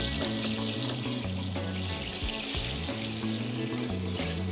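Shallot sautés in melted butter for buffalo sauce, a dense continuous sizzle with a steady low hum throughout, close and even, no talking.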